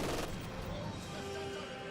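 MG42 machine gun firing in Company of Heroes 2, a faint, rapid rattling burst heard at a distance for about two seconds, muffled under the game's background sound.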